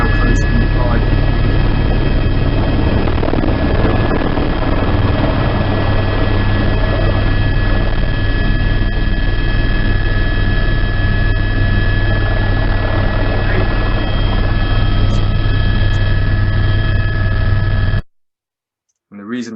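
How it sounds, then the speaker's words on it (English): A helicopter runs steadily up close, its engine and rotor droning loud and continuous with strong low thumping, then cutting off abruptly near the end. "you then get to go and have a go flying your first helicopter"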